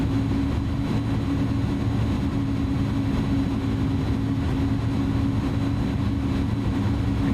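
An Airbus A310-300 airliner taxis off the runway in a flight simulator, its engines giving a steady, droning low hum with a constant whine layered above, unchanging throughout and with no voices.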